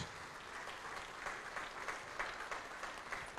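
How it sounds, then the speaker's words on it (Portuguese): A church congregation applauds in praise during a worship service: dense, steady clapping from many hands fills the room, swelling in brief surges and continuing throughout without a break. "Vamos aplaudir mais ao nome do Senhor."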